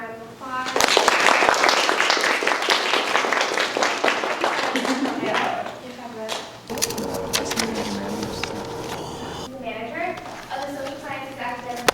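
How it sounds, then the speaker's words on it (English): An audience at a first public speaking event applauding a speaker, quick close claps building loudly then thinning out, followed by a voice talking over a quieter stretch. "You want to give him a round of applause?"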